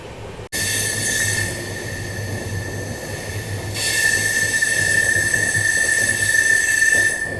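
A long-running Belagavi–Bengaluru superfast train rolls on with steady, loud rumble and a sustained high wheel squeal that swells louder partway through, close by and without voices.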